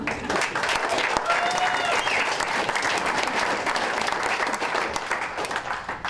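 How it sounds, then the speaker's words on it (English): Sustained, dense audience applause fills the hall at a business report presentation, many hands clapping steadily and fairly loudly for about six seconds before easing slightly at the end. "please feel free to clap your hands, stamp your feet, whistle"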